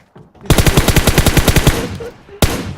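Rapid automatic gunfire in the mobile game PUBG Mobile, a loud burst of about fifteen evenly spaced shots, followed by a single sharp shot after a brief pause.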